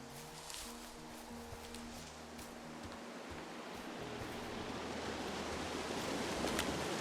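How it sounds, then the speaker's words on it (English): A waterfall in the Firewatch game forest rushes as a broad, steady hiss that swells slightly louder over several seconds, with a faint low tone underneath and no voices. "It's a really nice waterfall down here."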